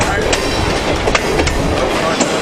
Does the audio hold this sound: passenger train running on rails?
yes